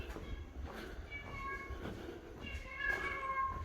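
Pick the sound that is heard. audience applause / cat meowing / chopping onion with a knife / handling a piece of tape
cat meowing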